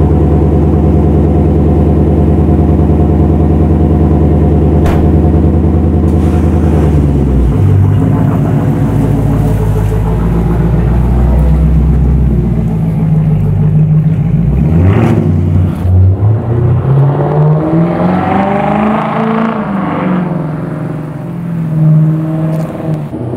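A Lexus LC500 cold-starts and idles with a deep, loud exhaust rumble close by, then settles before several rising and falling revs build near the end.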